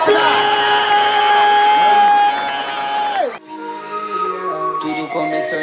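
A crowd at a Brazilian freestyle rap battle semifinal in Barueri cheers, whoops and shouts loudly, sustained voices ringing out before a brief dip and a rowdier swell.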